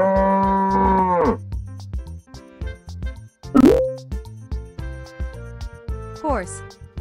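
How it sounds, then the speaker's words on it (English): A cow lets out a loud, close moo lasting just over a second, followed later by another short low call, set against a bouncy background music track with a spoken word heard. "Cow."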